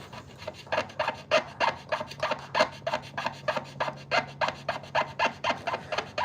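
Rust being scrubbed off an old 1984 Macintosh 512k power board, a steady rhythmic rasping of quick back-and-forth strokes, close and moderately loud, with a faint low hum beneath.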